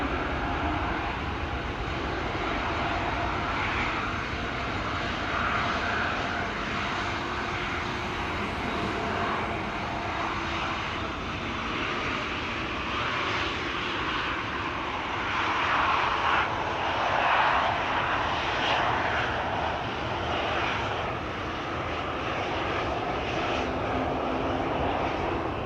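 A KLM airliner at Amsterdam Schiphol Airport roars steadily nearby, a broad continuous jet engine rush that holds loud and even for the whole stretch, swelling slightly toward the middle, with no voices.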